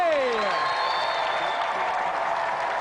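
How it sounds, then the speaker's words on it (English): Studio audience applauding a game-show arm wrestler, steady dense clapping throughout with a descending musical sting at the start and a presenter's voice over it. "Round of applause for Tony Duray"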